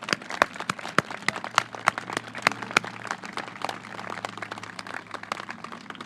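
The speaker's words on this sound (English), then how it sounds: "I'd like to request a round of applause just for Dave." Audience applauding the construction manager at a ceremony marking the seismic rebuild of Doyle Drive for the Presidio Parkway project in San Francisco; scattered, fairly faint sharp claps come thick at first and then thin out.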